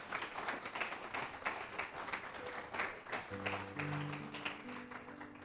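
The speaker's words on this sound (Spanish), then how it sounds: "dale un aplauso al que vive" Faint scattered clapping from a church congregation, soft and a little distant, with a few sustained organ or keyboard tones entering partway through.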